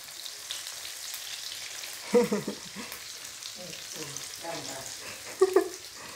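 Tempeh fries in a pan over lowered heat with a constant soft sizzle, while a utensil stirs and scrapes in short bursts, two of them louder clattering moments, close up.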